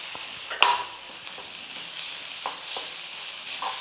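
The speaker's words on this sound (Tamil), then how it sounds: "நம்ம வந்து இந்த நெய்யில் வறுத்து எடுத்துக்கலாம் இப்போ தேங்காவை சேர்த்துக்கிறேன்" Ground coconut fries in ghee over low heat with a gentle, even sizzle. A sharp metallic clink comes early, followed by a few soft stirring scrapes.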